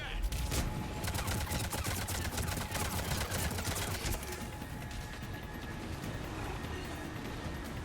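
Cover fire in the Mass Effect Legendary Edition video game comes as a dense, continuous fusillade of rapid automatic gunfire. It stays loud and crowded throughout and thins slightly toward the end.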